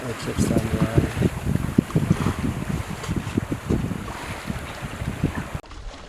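Wind buffets a sailboat under way in a gentle breeze off the Scottish coast, with blustery microphone noise, lapping water and hull sounds mixed with bursts of nearby talking before a sudden cut.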